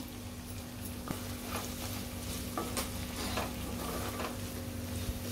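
Onion and tomato sautéing in a pan with kasuri methi, a steady low sizzle with a few soft spoon scrapes over a constant background hum.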